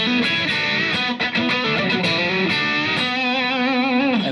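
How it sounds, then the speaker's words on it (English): Electric guitar on a Strat bridge pickup played through a Marshall Plexi-style amp with no fuzz pedal, a loud gritty overdriven riff with bent notes and quick choppy strums, close and steady for the whole stretch with nobody talking. "without the fuzz, the amplifier sounds like this."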